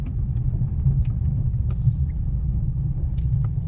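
A car creeps slowly along in first gear during a driving lesson, its engine giving a steady, loud, low rumble without a break and with no talking.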